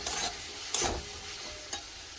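A spoon stirs turmeric and chilli powder in a hot pan, giving a soft continuous sizzle with a few distinct scraping strokes.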